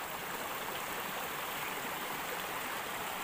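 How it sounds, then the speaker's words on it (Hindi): A mountain stream in the hills running steadily past a broken swimming pool, a continuous bright rushing and trickling with no voices over it. "यहाँ से तो पानी उतना ही जा रहा है नीचे"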